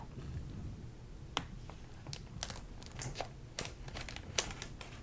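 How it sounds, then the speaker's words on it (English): A piece of tape handled up close during a show-and-tell of film photography prints, giving soft crinkly crackles and sharp ticks scattered irregularly over a quiet background. "There's some wonderful crinkly sounds."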